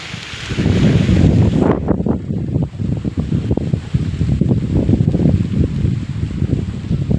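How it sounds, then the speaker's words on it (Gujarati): Strong wind blowing outdoors in rainy weather, a loud, rough, continuous roar buffeting the microphone, with gusty surges and rustling throughout. "ઢગલો પવન આવે"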